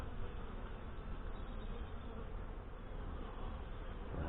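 Saskatraz honey bees in a new hive in northwest Wisconsin, eight weeks in, buzzing steadily and densely up close throughout while a frame is inspected, a continuous even hum with no pauses.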